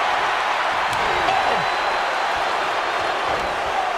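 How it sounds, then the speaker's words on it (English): A wrestling arena crowd in the WWE 2K25 video game, at a No Holds Barred match between Undertaker and Sting, roars as a steady, dense wash of noise that never lets up, with faint thuds rising out of it. "Listen to this crowd, driving these competitors to leave everything out in the ring."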